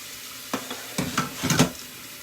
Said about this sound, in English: So I'm gonna run a little bit of cold water over this just to make sure that they don't overcook.